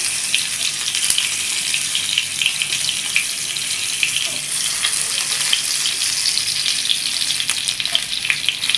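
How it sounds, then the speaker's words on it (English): Stuffed tomatoes sizzling as they are tossed in a flat pan, a constant bright hiss with faint scattered clicks throughout, close and fairly loud. "It is easy to toss them in a flat pan like this."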